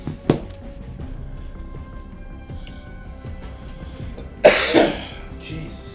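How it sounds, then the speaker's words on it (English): A person coughs twice while playing a game on Xbox with keyboard and mouse: a short cough near the start and a louder, harsher burst later, with quiet game sounds in between. "Jesus, stinking cough."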